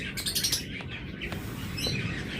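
Budgerigars chirp nearby in quick, high, twittering calls, a busy cluster of chatter over steady background noise.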